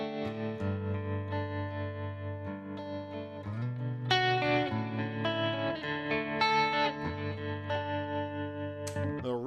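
Electric guitar played through a Headrush effects rig with tremolo engaged, sustained chords and notes with a pulsing, wavering volume, played alone and close without talk.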